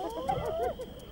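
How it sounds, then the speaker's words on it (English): A young hyena pup alone near its den on the Liuwa Plain gives a short series of whooping, whining calls that rise and fall, fairly close over a faint background hum. "The hyena pup calls out."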